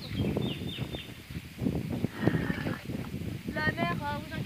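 A horse whinnies near the end of the clip on a farm where a mare and her foal are kept, under steady rustling and hoof or movement noise. A person speaks nearby.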